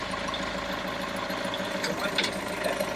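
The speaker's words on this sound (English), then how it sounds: "It went into gear quite easily with the help of the kitchen spatula." A boat's engine idles steadily with a low, vibrating, faintly knocking drone while the gearbox is shifted into gear by hand, with a few faint clunks near the end.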